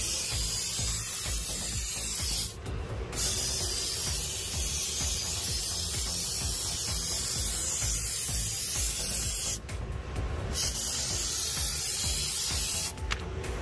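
Transtec cleaner sprays onto the hydraulic parts of a TSP 6500 turret truck in long, loud, continuous hissing bursts, with brief pauses between them and no voices.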